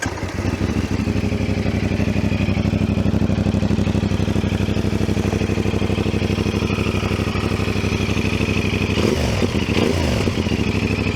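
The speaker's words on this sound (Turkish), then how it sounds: "Motorumuz boşta. Çalıştıralım." A CFMoto 450SR motorcycle engine runs at a steady, loud idle, a close, throbbing mechanical drone that holds throughout with a brief throttle blip near the end and no speech.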